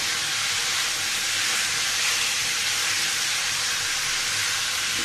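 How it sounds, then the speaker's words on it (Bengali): Yardlong beans frying in hot oil give a dense, continuous hiss that stays loud and even from start to end, close up, with no stirring breaks or voices. "এভাবে তেলের মধ্যে বরবটিটা ভেজে নিলে বরবটির যে একটা আস্ত গন্ধ থাকে সেটা আর থাকে না"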